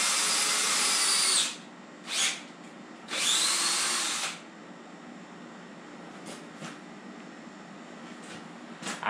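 A power drill drives tap screws into wood on a Mastercraft folding steel work table. There are three loud, close bursts: a long whirring run, a short blip, then another sustained whir, with quiet pauses between them.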